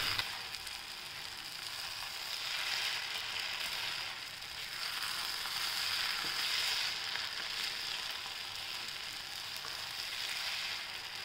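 Vermicelli upma cooked with plenty of vegetables is stirred in a pan, giving a steady, moderately loud sizzle with soft scraping that swells and eases throughout, with no voices.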